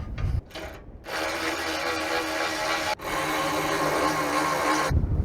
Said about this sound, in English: I'm glad I brought the ratchet